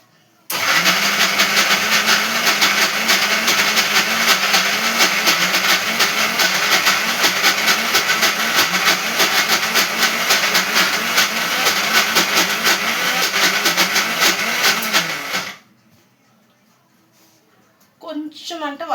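A kitchen mixer grinder grinding onion paste, a loud continuous motor whine with a rattling churn that runs steadily for about fifteen seconds, then stops abruptly, followed by faint sounds.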